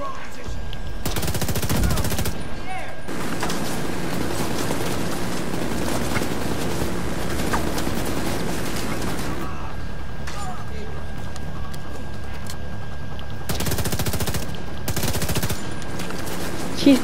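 Rapid automatic gunfire rattles in the video game The Division 2, several long sustained bursts with pauses between them, loud and close, over a constant background of game ambience.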